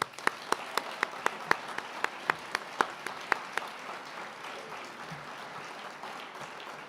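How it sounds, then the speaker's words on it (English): Applause at a school graduation ceremony, a soft steady patter of many hands with a few sharp, louder claps standing out near the front, tapering off toward the end. "Applause."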